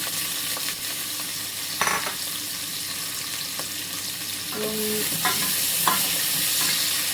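Chopped onion fries in oil for beef kabsa, giving a loud, continuous hiss with occasional knocks and scrapes from stirring and a brief tonal clink near the end; close up and without voices.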